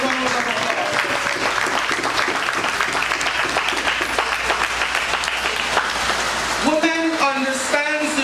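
Audience applause at an International Women's Day women's congress event, a dense steady patter of clapping throughout with voices mixed in, ending in a few louder tonal calls or cheers.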